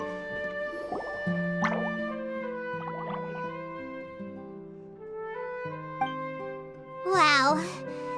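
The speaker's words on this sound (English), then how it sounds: "it sounds like a water droplet is on the second floor!" Water droplets plopping and dripping in the video game Genshin Impact, a few scattered soft drips set against steady melodic background music, with a short squishy flourish near the end.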